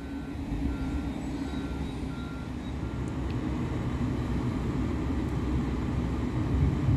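A Class 350 electric multiple unit, number 350129, passes at Helsby as a steady broadband rumble of wheels and traction that holds for the whole stretch, growing slightly louder toward the end.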